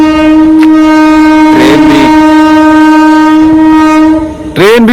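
Train going past with a loud, sustained horn that holds one steady tone throughout, close and dominant, over a rumble of the train.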